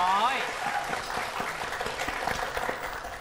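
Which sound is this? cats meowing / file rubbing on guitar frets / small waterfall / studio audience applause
studio audience applause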